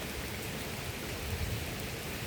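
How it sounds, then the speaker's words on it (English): Steady rain pours down on a moored sailboat as a cyclone approaches, a dense, even hiss of drops drumming on the deck and surfaces, close and unbroken, with no talking. "It's just rainy."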